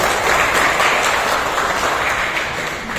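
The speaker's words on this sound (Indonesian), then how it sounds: "kita beri tepuk tangan untuk Mas Rizal Fadilah" A gathering at a regional AMPI youth organisation congress applauds a nominee, steady dense clapping from many hands that stays loud and even, tapering slightly near the end.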